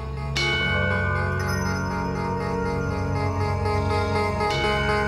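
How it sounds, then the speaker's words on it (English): An alarm bell rings in a stage production of Macbeth, a loud sustained metallic ringing that carries on throughout with a couple of fresh strikes, heard alone without voices. "Ring the bell!"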